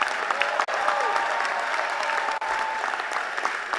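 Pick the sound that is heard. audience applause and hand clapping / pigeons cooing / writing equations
audience applause and hand clapping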